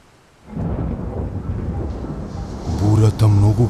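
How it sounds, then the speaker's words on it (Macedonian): A thunderstorm in an animated children's story, with a deep rumble of thunder building over steady rain and growing louder toward the end, and a voice speaking over it. "Бурата многу го налути Бранко"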